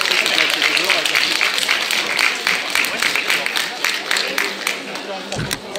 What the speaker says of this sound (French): On applaudit Coucou